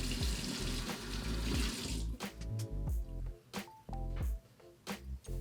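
Tap water streams steadily into a bathroom sink while someone rinses their face, a loud close hiss that drops into splashing and intermittent slaps of water as hands cup and splash it.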